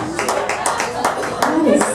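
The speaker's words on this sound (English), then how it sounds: "Single people, clap." Sparse, scattered clapping from a few single audience members at a live comedy cabaret show, with individual hand claps spaced irregularly over the room's murmur.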